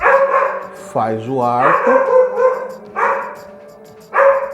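A dog barks and whines nearby, a loud yipping bark with a whimpering rise, then more barks, while someone talks over it indoors.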